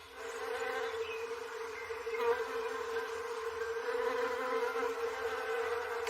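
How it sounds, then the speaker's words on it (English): Bees buzz around flowering trees in a Sussex garden in spring, a steady droning hum that swells slightly and continues without a break, moderately loud and with no voices. "The sound of bees is the sound of spring, as they make their way from flower to flower"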